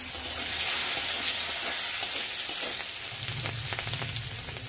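Steady loud sizzle of cumin, dried red chilli, bay leaf, garam masala, cashews and raisins frying in hot oil in a pan, a continuous hiss with faint stirring, no voices.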